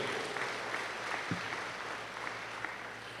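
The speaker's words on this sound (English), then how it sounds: "let's give God a great round of applause for His mercy" Graduation audience at a university convocation ceremony applauding, a soft, continuous patter of many hands heard at some distance across a large venue, without speech over it.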